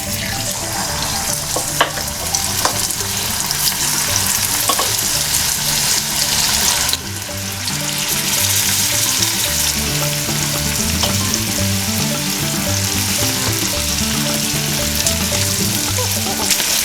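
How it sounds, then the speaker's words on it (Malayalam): Chicken pieces frying in hot oil for a Kerala-style curry, a loud, steady sizzle and crackle that runs continuously with no voices, dipping briefly partway through before surging back. "ഇപ്പോൾ ഏകദേശം എണ്ണ നല്ലതുപോലെ ചൂടായി വന്നിട്ടുണ്ട്. ഞാനിതിലേക്ക് ചിക്കൻ ഇട്ട് കൊടുക്കുവാണ്."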